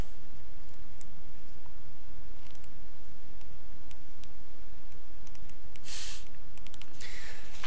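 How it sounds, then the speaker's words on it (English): Pages of a well-worn paper gamebook are turned by hand, giving scattered light ticks and clicks and then two louder papery rustles near the end, close up against a quiet noisy background. "Page turning noises."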